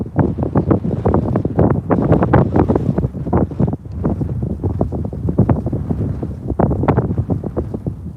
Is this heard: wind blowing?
yes